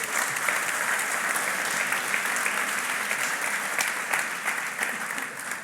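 An audience at a music talk and concert applauds steadily, a dense, full wash of clapping that holds for several seconds with no voices over it.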